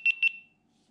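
A GoPro Hero 7 Black camera powering on with a quick pair of high electronic beeps, clear and close, followed by near silence.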